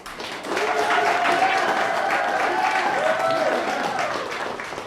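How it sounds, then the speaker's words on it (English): Applause from a small audience at a book discussion show, a steady wash of clapping lasting several seconds with speech-like tones running over it before it fades. "And applause for Clark's bio"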